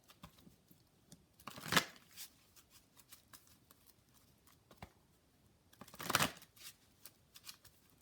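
Numerology cards are shuffled in two short, soft riffling bursts, with faint taps and rustles in the quiet between them.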